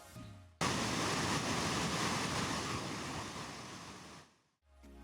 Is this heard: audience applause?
no